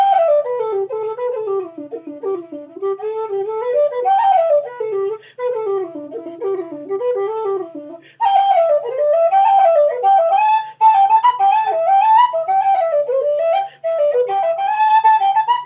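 An MK Whistles tin whistle, a recent model, plays a lively, ornamented melody, bright and clear, with short breaths between phrases and the tone growing fuller and louder partway through.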